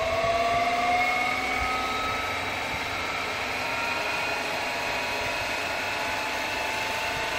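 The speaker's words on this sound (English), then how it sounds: "we have the distributor spinning, and that'll be like 2000 RPM." A Chrysler distributor spinning at about 2000 RPM gives a steady mechanical whir with a thin, sustained whine and faint ratcheting texture, constant and close for several seconds.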